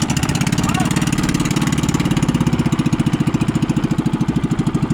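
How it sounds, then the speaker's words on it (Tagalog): A small engine, likely a boat motor, running unevenly and misfiring, with a pulsing, stuttering beat that grows more pronounced over five seconds; the engine is loud and close, with voices mixed in around it. "Palyado na ang makina natin."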